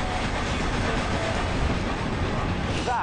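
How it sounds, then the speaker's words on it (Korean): Train rolling around a curve in the Forza Horizon 2 racing game, a continuous loud rumble of rail wheels and carriages with a faint squeal rising at the very end. "여기서 기차가 커브를 틀면서 코너에서 스피드가 약해지는 구간이지"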